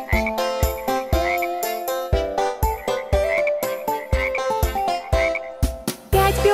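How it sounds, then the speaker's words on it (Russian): Frogs croaking at a pond: loud, continuous rhythmic croaks with a tonal, almost musical ring, tightly packed one after another with no talk. "Друзья, давайте отправимся на пруд и посмотрим на пестрых лягушат."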